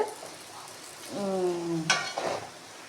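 Tomato, ginger and garlic sauté in a pan with a soft, steady sizzle, while a spoon scrapes and clinks against the pan close by.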